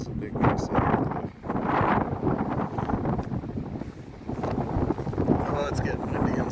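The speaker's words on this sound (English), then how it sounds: "Oh, it's getting windy and stormy." Gusty wind roars and buffets the microphone in a stormy December forest in Oregon's Ochoco National Forest, surging and easing in loud, continuous rushes.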